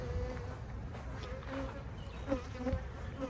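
Honeybees buzzing close by during a quick hive check for swarm cells, a steady droning hum with a few louder passes near the end.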